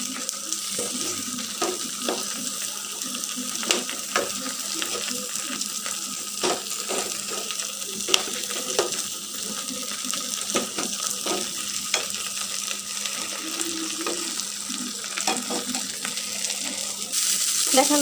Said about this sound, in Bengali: দেখেন রসুন কিন্তু এক পাশে ভাজা হয়ে গেছে, একটু করে একটু করে সবগুলো একটু নেড়ে নিচ্ছি